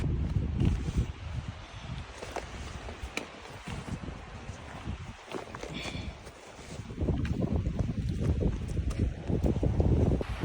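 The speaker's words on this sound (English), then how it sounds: "the wind's pretty brutal today" Strong gusty wind roars and buffets the microphone on a mountain trail along the Continental Divide, a loud continuous rumble that swells and eases without any voices.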